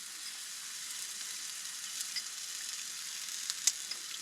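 Eggs for a trout roe omelette fry in olive oil over an outdoor fire by a lake, giving a soft, steady hiss with a few faint pops.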